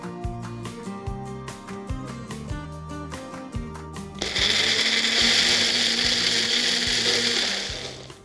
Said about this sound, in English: I'm going to let it cool and then blend it in a blender